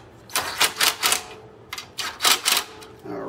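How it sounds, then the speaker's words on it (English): Nuts being tightened down on the back cover of a Generac XT8500EFI generator: a quick run of sharp, close clicking bursts in two clusters with a short pause between, like a ratchet wrench working. "get your nuts on. We'll go ahead and tighten them down."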